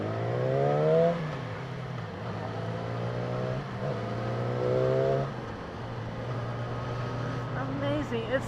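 A 2016 Yamaha R6 motorcycle engine accelerating through its gears, the revs rising and dropping in repeated sweeps with shift breaks, heard loud and close alongside wind rush.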